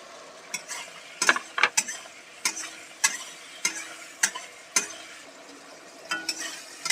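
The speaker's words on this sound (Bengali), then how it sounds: "নেড়ে চেড়ে টমেটোটা গলিয়ে নিতে হবে।" Spatula stirring tomatoes and turmeric in a pan, with scraping strokes at an irregular rhythm over a faint sizzle, close and fairly quiet.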